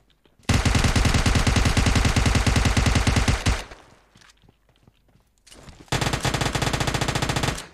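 Mini 14 rifle fire in a video game comes in two long rapid bursts of close, loud shots, separated by a quieter stretch of softer steps and handling.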